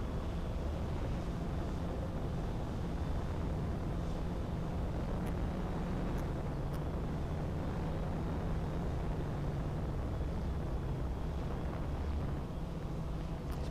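A TOVSTO Aegean V2 GPS quadcopter climbs at full throttle, a dense continuous motor drone with buffeting wind noise, steady and fairly loud throughout, no talk.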